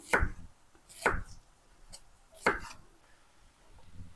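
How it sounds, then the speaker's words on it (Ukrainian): Three sharp knife chops through bell pepper into thin strips on a cutting board, spaced about a second apart, close and crisp, with quiet pauses between. "Нарізаю також соломкою"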